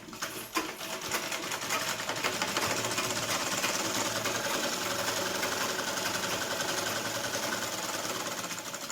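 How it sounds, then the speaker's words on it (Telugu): A sewing machine stitches across a joined lehenga border fabric in violet, a fast, steady mechanical rattle running continuously at moderate loudness after a brief start. "మరి దీనిపైన ఒక కుట్టు వేస్తున్నాను."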